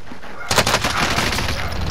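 A rapid fusillade of gunfire erupts in a Warzone match, a dense rattling burst of shots that starts suddenly and keeps going loudly to the end.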